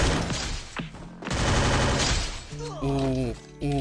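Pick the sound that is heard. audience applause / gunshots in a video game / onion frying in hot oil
gunshots in a video game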